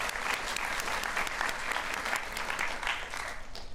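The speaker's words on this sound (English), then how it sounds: "let's give them a round of applause." A graduate orientation audience gives a round of applause, a dense, steady wash of many hands clapping that holds evenly for several seconds at moderate loudness with no talking over it.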